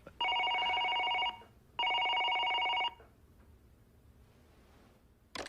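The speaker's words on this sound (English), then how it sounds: "Congressman Stratton is on the phone." An office telephone bell rings twice, each long electronic trill lasting about a second, followed by quiet room tone and a faint click at the end.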